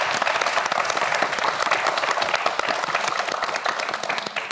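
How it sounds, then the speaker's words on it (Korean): Sustained, dense applause from a television quiz show studio audience for a student contestant, a steady wash of many hands clapping close and loud throughout, with no speech over it. "강유한 학생에게도 여러분 큰 박수 부탁드립니다"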